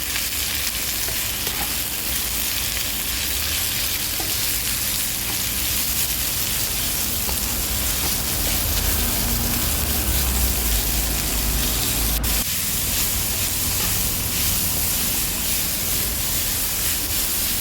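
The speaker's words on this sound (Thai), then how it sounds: "ผัดหมูสับต่อไปให้สุกค่ะ" Minced pork stir-frying in a hot pan for a Thai stuffed rice noodle roll dish, a steady loud sizzle that runs unbroken throughout with occasional scraping stirs, no talking.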